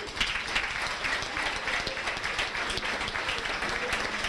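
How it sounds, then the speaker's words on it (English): Applause for a high school varsity volleyball team at a sports banquet, a steady dense wash of clapping from a roomful of people holding even throughout. "Give them a big round of applause."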